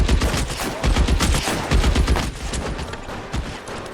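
Heavy gunfire in the LA Noire video game, with dense bursts of rapid shots like a machine gun fusillade, loud and continuous throughout with no break.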